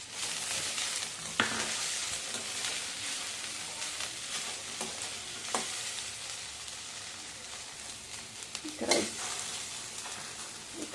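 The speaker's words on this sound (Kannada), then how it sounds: "ಸ್ವಲ್ಪ ಉರಿ ಸಣ್ಣ ಇಟ್ಕೊಂಡು ಅದನ್ನು ಚೆನ್ನಾಗಿ ಹುರ್ಕೋಬೇಕು." Sliced okra and green chillies fry in a pan over a low flame for a chutney, giving a soft continuous sizzle broken by occasional scraping stirs of a spoon.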